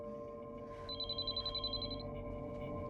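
A telephone rings in a home, one bright burst of rapid trilling bell pulses lasting about a second, faint and clear over a quiet hum.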